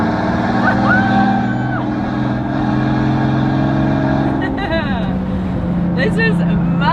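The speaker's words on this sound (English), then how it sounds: "This car is so loud." A one-off Maybach Exelero on a private airport strip, its engine droning loud and steady up close, with a shift in pitch partway through as the revs change and a voice faintly audible beneath.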